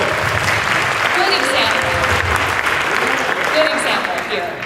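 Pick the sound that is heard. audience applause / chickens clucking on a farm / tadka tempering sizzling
audience applause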